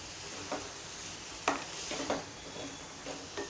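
Red amaranth greens with crushed onion being stirred in a pan, a quiet sizzle underneath five or six distinct spatula scrapes and taps against the metal, close and fairly soft, with no talking.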